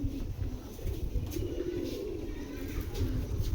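A pair of black racing pigeons coo softly and repeatedly, the low throaty calls heard nearby over a faint background hum.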